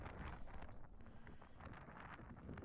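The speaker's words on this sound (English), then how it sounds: "As you can hear in the background, it is a pretty windy day." Wind buffets the microphone at a Sunday league football pitch on a windy day, giving low, rumbling gusts throughout that stay fairly faint.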